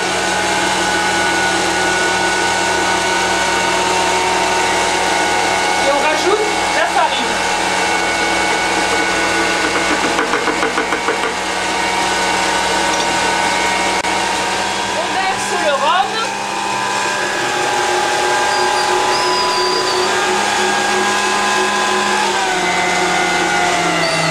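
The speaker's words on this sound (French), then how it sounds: "On laisse battre le mélange." An electric mixer beats the batter for a Caribbean cake with added sugar, giving a steady, continuous motor whir that shifts pitch now and then. Close and fairly loud throughout, with faint voices in the background.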